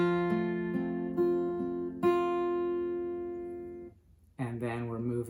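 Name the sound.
fingerstyle guitar playing a song melody with accents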